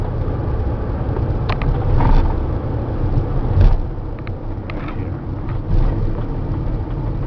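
A 2008 Mercedes Sprinter diesel cab chassis driving and turning, with a steady low engine drone and road rumble heard from inside the cab, plus light creaks and rattles from the body.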